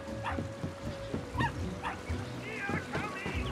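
A dog in the Brothers: A Tale of Two Sons Remake video game gives a run of sharp barks and higher yips at uneven intervals, mixed with game background noise.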